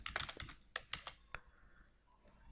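Quick bursts of typing on a computer keyboard while writing a heading style in MS Word, a cluster of crisp close clicks, then a few spaced keystrokes trailing into quiet.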